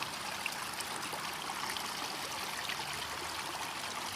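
Water runs steadily through an artificial stream in Qatar, a continuous close rushing trickle with no pauses and no voices over it.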